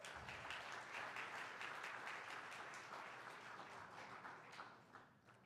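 Steady applause from a church congregation during a Sunday service, a broad wash of many hands clapping that holds loud and even before easing off near the end.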